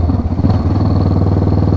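A motorcycle engine runs close and steady throughout, with a low, rhythmic throbbing pulse and some mechanical clatter, as from a bike out riding after a repair, oil change and new tires.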